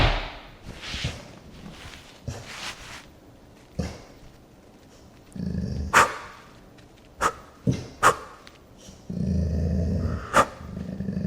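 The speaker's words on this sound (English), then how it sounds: "she let off a big bark" A dog reacts to a visitor during an in-home behaviour evaluation, giving several loud, sharp barks and growly outbursts in separate bursts over about eleven seconds, with quiet gaps between them.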